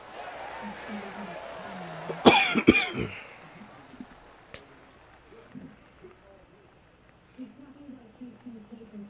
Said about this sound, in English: you still have that cough?